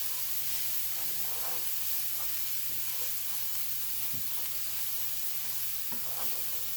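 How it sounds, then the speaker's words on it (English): Food fries in a pan with a steady, loud sizzle and hiss, punctuated by occasional stirring scrapes and clinks close by, with no one talking. "Fry this for a few seconds."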